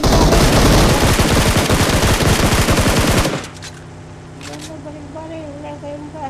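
Loud, rapid bursts of automatic gunfire from PUBG Mobile fill the first three seconds, then cut off, leaving a quieter background with a voice talking.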